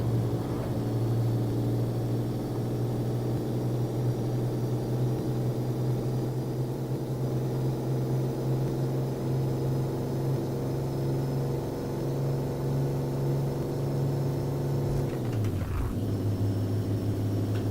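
A racing bus engine drones at Silverstone in rFactor, holding a loud, steady low-pitched hum for most of the run before a sharp dip and recovery in pitch near the end as it shifts or brakes, with no talking.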